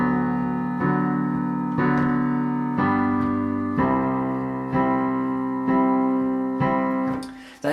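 Piano plays the opening of a chorus as repeated sustained chords, about one every second, each struck cleanly and left ringing, close and alone with no talk.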